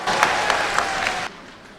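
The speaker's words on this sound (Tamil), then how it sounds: "கைத்தட்டல் விழுகிறது" Audience applause at a speech event, a short burst of clapping with a few sharp claps standing out, cutting off abruptly partway through and leaving quiet room tone.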